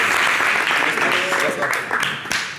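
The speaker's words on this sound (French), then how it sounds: "Bravo, merci d'applaudir." Studio audience applause on a local French-language TV show, brisk clapping mixed with voices talking over it, tapering near the end.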